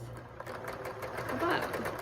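Domestic sewing machine stitching straight across the bottom edge of a pillowcase, a steady close mechanical whir running throughout the short stretch.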